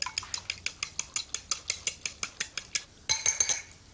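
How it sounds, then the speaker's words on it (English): A whisk beating eggs with cream in a bowl makes a fast, even run of sharp metallic clicks, about four or five per second, ending in a brief louder clatter. "Give it a good whisk."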